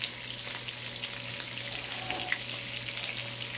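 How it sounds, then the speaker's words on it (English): Onions grilling on a hot griddle alongside bacon and beef sausage, giving a steady close sizzle with faint crackles throughout. "and we're going to grill some onions."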